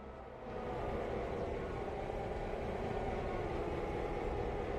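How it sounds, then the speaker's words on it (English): A long freight train rolls along the track in the Railroader video game, a steady, dense rumble of wheels and cars that rises at the start and then holds even and unbroken. "This is going to be the biggest stretch of train we got right here."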